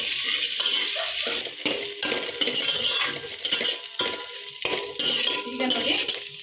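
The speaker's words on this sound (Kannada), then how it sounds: "ಈರುಳ್ಳಿ ಎಲ್ಲ ಚೆನ್ನಾಗಿ ಫ್ರೈ ಆಗಿದೆ." Onions with coriander and mint stir-frying in a pan for village-style chicken sambar, a steady close sizzle broken by repeated scraping and stirring strokes of a utensil against the pan.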